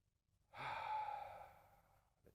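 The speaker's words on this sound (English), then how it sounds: "Take a deep breath in." A single slow, deep inhalation during yoga practice, starting after a brief pause and fading gradually, heard close and alone with a faint soft tail at the end.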